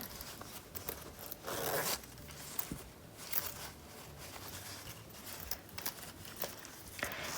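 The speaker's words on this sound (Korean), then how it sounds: "여기에서 이제 지퍼를 열어주신 다음에" A zipper on a small quilted triangular coin purse is pulled open, giving quiet, close scratchy zips and light fabric rustles in short bursts, soft and without talk.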